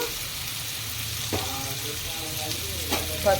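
Onions fry in a pan, soon to be joined by chopped tomatoes, with a steady low sizzle and a few soft scrapes and clinks of stirring.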